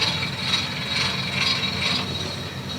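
An electric motor raises a railroad semaphore signal arm, a steady mechanical whir and grind that runs evenly for the whole moment, close by and moderately loud, with no voices.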